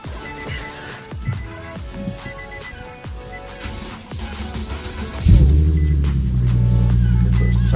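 A 2014 Infiniti car with 38,000 miles cranks and fires up, settling into a steady, loud idle rumble after a stretch of quieter clicks and background noise.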